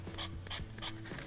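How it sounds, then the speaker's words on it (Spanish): Sandpaper rubbed lightly over a paper napkin glued to an MDF box, giving soft, close scratchy strokes in a steady back-and-forth rhythm with no voices. "lo que uno hace es lijar. Hay que lijar pues suavemente porque puede uno rasgar la servilleta"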